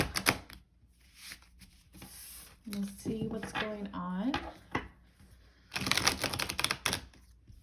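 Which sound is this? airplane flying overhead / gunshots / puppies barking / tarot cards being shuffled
tarot cards being shuffled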